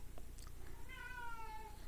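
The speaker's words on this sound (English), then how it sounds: "There's the cat." A house cat gives one drawn-out, rising and falling meow while asking for someone to move her toy. It sounds fairly close in a quiet room.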